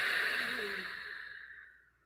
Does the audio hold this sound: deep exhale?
yes